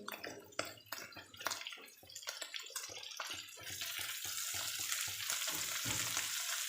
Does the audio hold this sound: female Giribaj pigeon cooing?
no